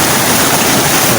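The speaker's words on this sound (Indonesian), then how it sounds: "berada di atasnya air terjun ini" Curup Tenang waterfall roars with a dense, steady rush of falling water, loud and close, filling the whole moment with no voices.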